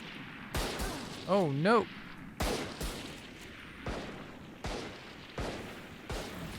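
Gunshots in Valorant, about seven sharp single shots spaced unevenly, loud and close, with someone speaking briefly between them.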